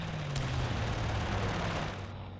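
Aircraft strafing run in a World War II strategy game, a dense continuous rattle of rapid gunfire with a low engine drone underneath, steady and loud for about two seconds before trailing off.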